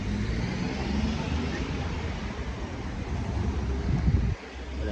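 Street traffic at Campo Grande in Salvador, a steady broadband rumble of cars passing close by with wind noise, continuous throughout and ending with a vehicle whooshing past.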